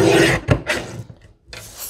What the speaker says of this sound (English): So I'm going to slide and cut at 10.